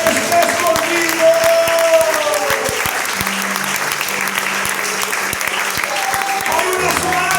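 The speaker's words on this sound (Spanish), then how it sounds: "Un aplauso para Él." A church congregation applauds at an evening worship service, a dense, steady wash of clapping from many hands that carries on throughout, with sustained organ or keyboard notes and faint voices mixed in beneath.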